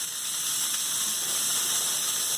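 A golf-ball-sized meatball for a cheesy bolognese sizzles on a hot skillet, a steady bright hiss of frying with no pauses or talk.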